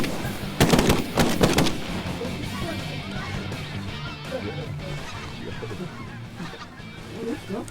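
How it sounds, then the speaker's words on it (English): Shotgun blasts fired at flying geese, a burst of several loud, sharp reports close together near the start, followed by goose honking and hunters' voices in open air. "That was good shooting right there, boys."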